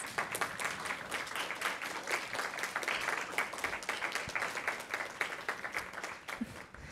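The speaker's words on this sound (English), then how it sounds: "Can we give them a round of applause?" Applause at a SummerWorks professional development gratitude celebration, a fairly quiet, steady round of clapping from a modest group, lasting throughout with distinct individual claps audible.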